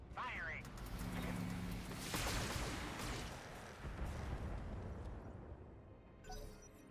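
Mech weapons fire in the BattleTech video game as a rumbling barrage of blasts and booms. It swells to a heavy burst midway, then fades to a lower roar and a last thud.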